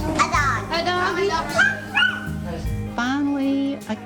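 A person playfully imitates a dog, making a run of yips, whimpers and bow-wow barks in a high, sing-song voice, close to the microphone with some talk mixed in.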